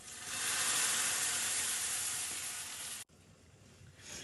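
Hot tempering poured into banana pulissery sets off a loud, broad sizzle that holds steady for about three seconds, then cuts abruptly to a quieter, lingering crackle and hiss from the pan.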